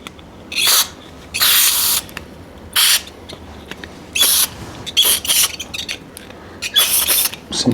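A spray nozzle blasts the drivetrain of a Fuji Tahoe mountain bike in loud, close bursts of hissing spray, about ten of them separated by short pauses, with faint mechanical creaks between.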